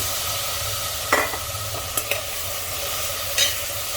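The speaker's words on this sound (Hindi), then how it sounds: "और आलू के साथ इसे मिक्स कर लेंगे" Cut, washed potatoes are stirred into fenugreek and ground garlic frying in a pan, producing a continuous sizzle with a few distinct scraping clacks from the spoon.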